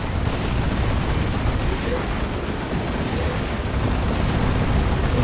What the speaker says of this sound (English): That's a rocket run.